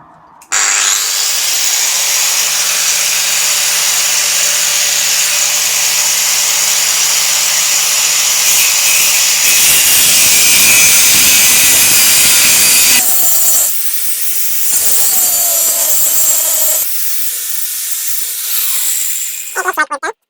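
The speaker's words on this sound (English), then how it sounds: "Okay, I'm only cutting this nut, right?" Power tool cutting through a nut on an old Bentley part, a loud, continuous high grinding whine that changes tone as the cut progresses, with short pauses near the end.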